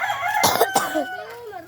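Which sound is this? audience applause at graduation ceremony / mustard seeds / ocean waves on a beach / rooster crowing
rooster crowing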